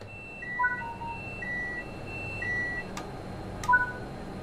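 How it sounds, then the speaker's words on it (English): A train cab alarm in Train Sim World 5 sounds for tilt authorization and speed supervision. Short pitched electronic beeps of two alternating tones repeat over a steady low cab hum, with two brief clicks near the end. "After setting the reverser, you will hear an alarm. This is the tilt authorization and speed supervision alarm"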